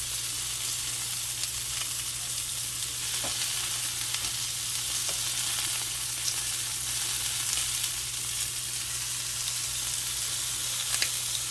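Shrimp sizzle on a grill after being flipped, a continuous dense crackling hiss that stays close and even for the whole stretch, broken by occasional small pops, with a low steady hum underneath and no voices.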